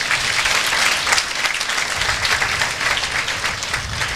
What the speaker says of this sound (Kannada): ಚಪ್ಪಾಳೆ ಹೊಡಿಬೇಕೆಲ್ಲರೂ